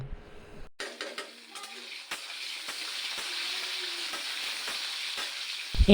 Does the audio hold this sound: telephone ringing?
no